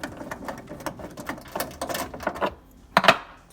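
Screws are taken out of an over-the-range microwave during removal, giving a run of quick close clicks and rattling ticks from a driver, uneven in rhythm with a sharper burst near the end.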